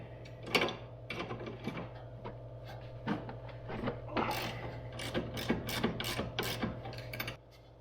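A 16mm wrench loosens a sway bar end link on a Mini Cooper while a T30 Torx holds it, producing a steady run of close ratcheting clicks and small metallic knocks over a faint hum.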